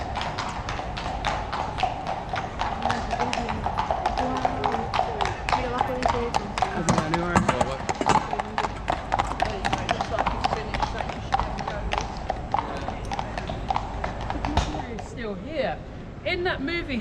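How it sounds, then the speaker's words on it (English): Police horses walk by on a London street, their hooves clip-clopping in a steady, close rhythm while people talk over the sound. "take photos of the incoming police horses"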